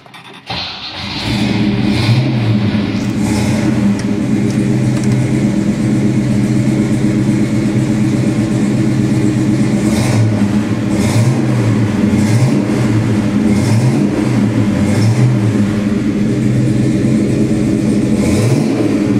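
A 1969 Chevelle SS 396 V8 with a four-speed cranks briefly and catches, then settles into a loud, steady rumble close by, punctuated by a series of sharp throttle blips that rise and fall.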